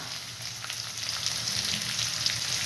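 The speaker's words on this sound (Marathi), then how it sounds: "कांदा छान असा परतून घेणार आहे तेलावरच" Chopped onion sautés in hot oil in a home kitchen, a steady soft sizzle with faint crackles and occasional stirring scrapes, fairly quiet and continuous with no one speaking.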